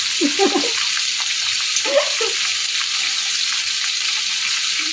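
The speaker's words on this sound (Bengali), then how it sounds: "গাজরটা একটু হালকে করে ভেজে নেব আমি" Carrots lightly frying in a pan, a constant bright sizzling hiss close by, with a couple of brief low scrapes or stirs early on and no talking.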